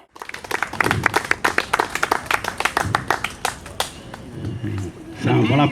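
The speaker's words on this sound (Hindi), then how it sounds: "तालियों की गड़गड़ाहट" A crowd at a World Environment Day tree-planting event in Patna breaks into loud, rapid clapping that lasts several seconds before fading, and people begin talking as it dies away.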